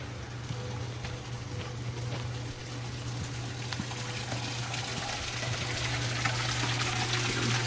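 Water trickles and splashes steadily at a small campus koi pond, a continuous close wash of running water with a low hum underneath and no talking.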